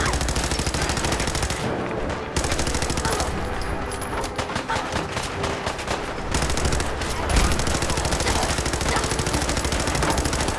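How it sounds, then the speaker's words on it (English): An armor-piercing weapon fires in Fallout 4, loud automatic bursts hammering almost without pause for about ten seconds, with brief gaps and a final louder burst. "This is the armor piercing weapon."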